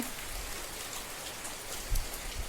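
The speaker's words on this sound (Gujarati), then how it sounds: "ઝરમર ઝરમર વરસાદ હતી ચાલુ છે" Soft, light drizzle patters quietly and steadily, with a few slightly heavier drops landing nearby.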